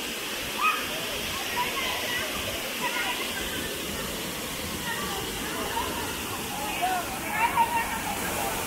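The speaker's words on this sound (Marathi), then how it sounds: "सुंदर असा सावडाव धबधबा." Savdav waterfall in the Konkan countryside near Kankavli, a steady broadband rush of falling water filling the scene at moderate level, with a few brief louder splashes near the end and no voices.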